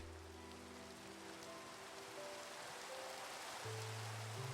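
Steady rain falling in Minecraft, a soft, even patter of drops on surfaces continuing throughout, with faint low game tones underneath.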